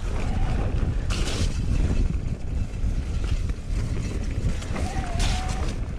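Steady wind buffeting the microphone in open ground at Cannock Chase, a constant low roar with gusty surges, loud and close throughout.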